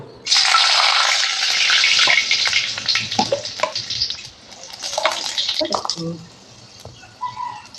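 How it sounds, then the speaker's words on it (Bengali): Spices dropped into hot oil in a wok burst into a loud, sustained sizzle that gradually settles, with a few clinks and stirring knocks toward the end. "এবার কড়াইতে পরিমাণ মতো তেল দিয়ে নেব"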